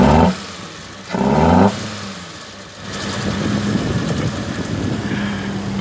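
A 2002 Proton Satria 1.3 GLi running through a new exhaust: a low, throaty idle with two short blips of revving, then a steadier, busier drone as the engine is held a little higher.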